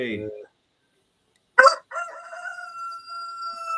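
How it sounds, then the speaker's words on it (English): A rooster crows once, loud and close, a sharp rising cry followed by a long drawn-out note; voices are heard just before it. "The chicken agrees."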